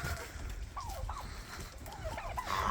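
Faint turkey gobbles and goose calls over a low rumbling background on a farm, a few short warbling bursts at a distance.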